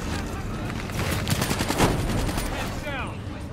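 ICR-1 assault rifle gunfire in the shooter game Black Ops 3, a rapid burst of shots over busy game noise with a voice talking near the end.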